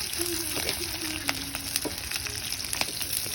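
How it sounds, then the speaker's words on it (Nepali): Sukuti, dried meat, fries in a karahi wok with a steady close sizzle and crackle, dotted with occasional sharp pops and faint stirring scrapes. "माथि कराईमा सुकुटी पाकेर तल चाहिँ किरा पोलिरहेको छ"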